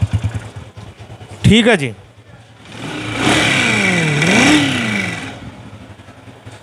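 A 2003 Honda 125 motorcycle engine idles with a rough, close putter, then is revved up and held high before dropping back, while someone speaks briefly over it.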